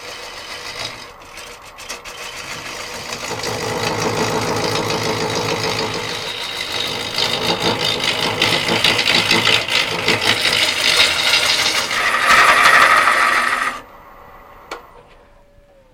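A circular cutter on a lathe working a sycamore burr slab bowl, giving a steady, fairly loud scraping and rubbing hum with a motor drone underneath for most of the clip, then dropping away near the end.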